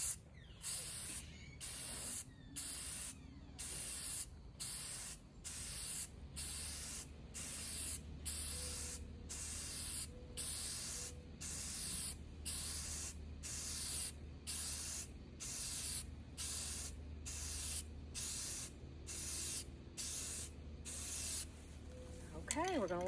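Paint spraying onto a piece of furniture being upcycled in repeated short hissing bursts, roughly one per second with brief gaps, close and steady, plus a faint low background hum.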